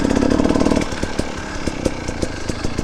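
An enduro motorcycle engine revs hard while the bike wheelies over rocky terrain, first a loud, steady buzzing drone and then choppier bursts with sharp clatters and knocks, close and loud.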